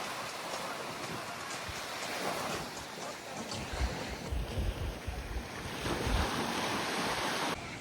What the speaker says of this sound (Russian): между пирсами прям действительно большие волны